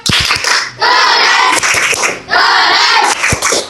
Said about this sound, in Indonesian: Tepuk tangan untuk rombongan ini.